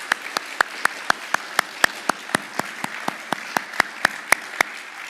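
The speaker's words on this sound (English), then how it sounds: "Let's just give him another round of applause because it's in the script" Applause at an Eagle Scout ceremony: a few hands clapping slowly and evenly, sharp separate claps about every quarter second, near and clear with no talk over them.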